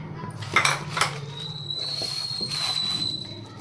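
Chicken biryani marinade with coriander, curry leaves and mint being mixed in a bowl, giving a few clattering knocks and scrapes of utensil against the dish, followed by a steady soft rustle with a faint ringing tone.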